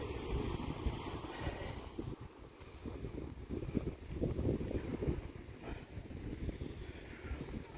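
A chilly wind blows outdoors, making a continuous low rumbling buffet that swells and eases over the microphone. No one speaks.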